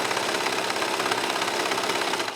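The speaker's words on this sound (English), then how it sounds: "It's a 4-thread serger. And I'm just trimming off my messy cutting job at the same time." A 4-thread serger stitches and trims through towel fabric, giving a steady, dense mechanical whir with a fast even stitching chatter that holds constant and close throughout, with no talk.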